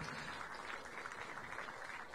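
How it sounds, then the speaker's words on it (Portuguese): A church congregation claps during a sermon, a faint, distant wash of steady applause that stays even and unbroken for a couple of seconds. "Pode aplaudir, pode aplaudir o Senhor."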